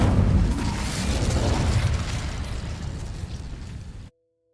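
A fire spell cast in Hogwarts Legacy produces a loud whooshing burst of flame that roars and crackles for about four seconds before cutting off abruptly.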